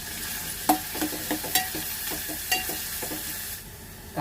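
Onion and garlic sautéing in a pan while being stirred for a dried Bombay duck curry, with a steady soft sizzle and repeated scraping strokes of the spoon, close and alone without talk.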